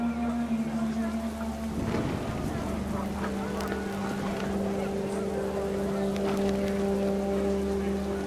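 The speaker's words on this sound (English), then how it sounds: "Rain came down in buckets then" Steady heavy rain hisses continuously in the video game What Remains of Edith Finch, with a constant low engine-like drone and tonal hum running underneath throughout.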